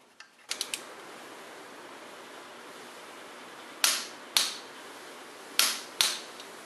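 An oil pump bolt coated with ARP Ultra Torque fastener lube is tightened to 65 foot-pounds with a torque wrench during an engine build. A few light ticks come first, then four sharp, close metallic clicks in two pairs, with no talking.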